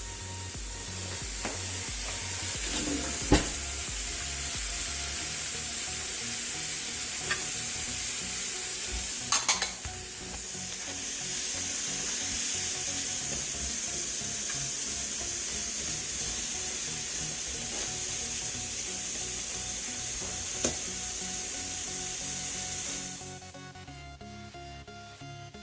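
Carrots being stirred in a hot pan, a steady loud sizzle and hiss of frying with scraping stirs and a few sharp clinks, continuing for most of the stretch before cutting off near the end.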